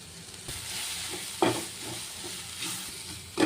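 Spiced mushroom stuffing with Kashmiri chilli, pepper powder and garam masala sizzles in a pan, soft frying hiss broken by a few scraping stirs of a spoon.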